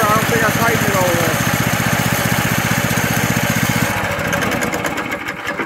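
A Predator 420cc engine on a golf cart build runs at a steady, fast-pulsing idle, loud and close. After a few seconds its chugging eases and turns rougher and less even.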